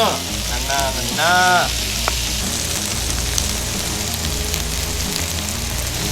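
Soft shell crabs sautéing in a hot pan at a Cajun cookout in Lafitte, Louisiana, a steady close sizzle running throughout, with a brief spoken word near the start.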